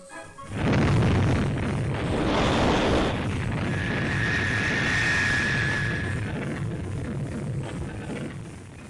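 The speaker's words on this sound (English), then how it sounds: "It is only the second launching for the Thor Delta" Thor Delta rocket launching at Cape Canaveral: a loud, sustained roar that rises suddenly and holds as a deep, rumbling, crackling wall of noise, easing slightly toward the end.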